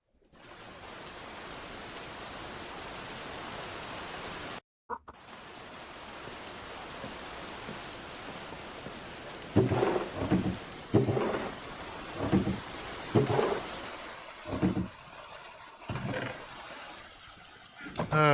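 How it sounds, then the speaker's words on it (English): Steady rain hisses in the Minecraft-style game Origin Realms, briefly cutting out, then returns with a series of deep thunder rumbles and crackling bursts rolling through the storm. "I come back and it's raining."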